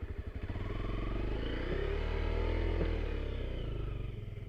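A supermoto motorcycle engine revs hard off-road as the back wheel spins, a loud, close, steady buzzing drone that swells and holds for several seconds with no talk over it.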